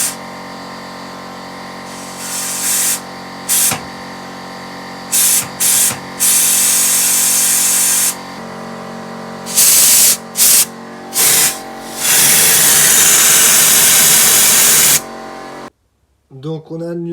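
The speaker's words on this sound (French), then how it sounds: "coup de soufflette dans les durites." An air blow gun blasts compressed air through the fuel hoses of a Jeep Willys in bursts, loud close hissing spurts of varying length, ending in a long sustained blast, with a steady hum running underneath throughout.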